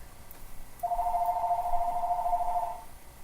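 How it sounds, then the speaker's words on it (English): A mobile phone rings during a lecture, one steady electronic tone lasting about two seconds, clear and moderately close over a quiet room hum. "Sorry, my phone's ringing."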